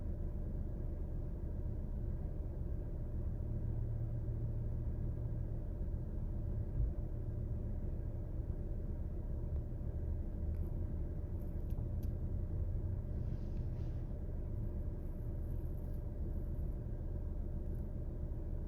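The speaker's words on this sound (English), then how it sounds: "There's a lot of traffic going on up in here now." Traffic moves through a supermarket parking lot. It comes across as a steady, faint low rumble of engines and tires that holds evenly from start to finish, with no clear voices.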